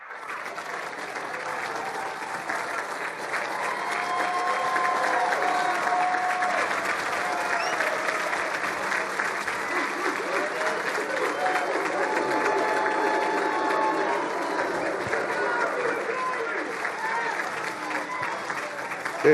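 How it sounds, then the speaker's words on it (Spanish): A church congregation gives a standing ovation, sustained dense applause from many hands filling the room for nearly twenty seconds at steady, moderate loudness, swelling slightly midway. "Denles una ovación de pie."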